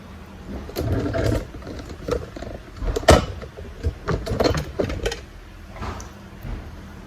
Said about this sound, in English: So I'm just sewing both of my pieces together here.